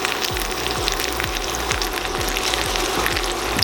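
Chicken fries in a pan on low heat, a close steady sizzle with soft crackles and regular faint stirring clicks, no voices.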